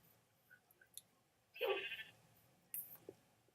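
A sheep bleats once in a short, clear burst, followed by a brief higher chirp and a few soft clicks in otherwise quiet surroundings.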